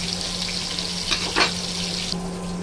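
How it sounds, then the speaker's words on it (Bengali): Pointed gourd (potol) frying in a pan gives a steady, close sizzle with a couple of brief louder stirring bursts near the middle, no voices. "পটলটা আমাদের ভাজা হয়ে গেছে, আর একটু ভেজে নেব"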